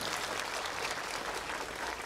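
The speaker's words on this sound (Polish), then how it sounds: "Brawa dla Oliwiera." Applause for a child named Oliwier after he played percussion and beatboxed at a children's choir event in a Łódź parish, a steady, fairly quiet wash of clapping filling the whole moment.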